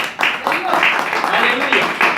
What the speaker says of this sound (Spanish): Démosle fuerte un aplauso al Señor.